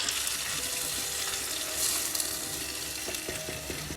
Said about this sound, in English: While onions are cooking,